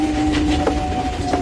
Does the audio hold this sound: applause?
no